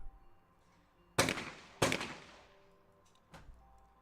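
Shotgun blasts at a women's junior skeet championship in Leobersdorf, Austria, two sharp loud reports close together on a double target, then a fainter distant shot from another station, no talk.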